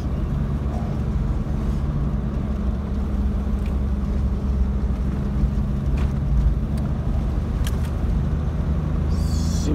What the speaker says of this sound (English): I'm just running my car in low range. Fourth gear is a nice pace